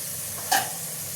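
Onions go into hot oil with fennel seeds, ginger and garlic already in the pan, giving one brief, close burst of sizzling that rises sharply and fades quickly to a quiet hiss.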